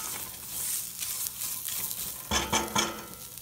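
Bitter gourd pieces are stirred in a stainless steel pan, a soft ongoing sizzle broken by several quick scraping and clinking strokes of the utensil against the metal near the end.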